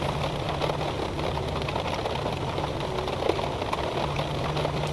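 Airbus A340-600 engine spooling up during start in a flight simulator game, a continuous loud low hum and whine held steady with no pauses and no voices.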